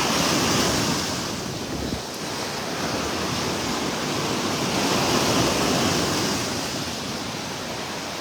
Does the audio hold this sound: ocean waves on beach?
yes